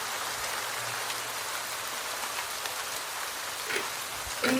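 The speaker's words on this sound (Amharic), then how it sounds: "የዚህን ያክል ዝናብ ጥሏል።" Heavy rain falls outside in Dubai, a dense, even hiss of drops on surfaces that continues unbroken, with a couple of faint nearby knocks near the end and no voices.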